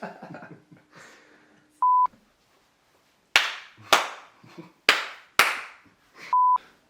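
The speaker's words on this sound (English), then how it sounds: "Okay, give us another clap." Four sharp, separate hand claps ring out at close range with brief pauses between them, following quiet murmuring and a couple of electronic beeps, in a post-ride gathering after a cycling event.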